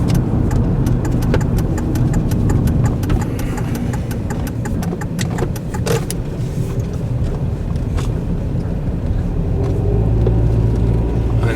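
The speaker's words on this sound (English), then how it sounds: "Only thing I hear is road noise." Steady low road rumble and tyre noise inside a quiet car on a test drive during a pre-purchase inspection, continuous and fairly loud throughout with a faint engine hum beneath and no talking.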